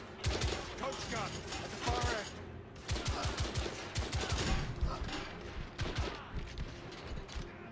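Coach gun shotgun blasts from the video game The Order: 1886 come as a rapid string of loud, sharp shots. Dense gunfire and battle noise surround them, with brief gaps between bursts.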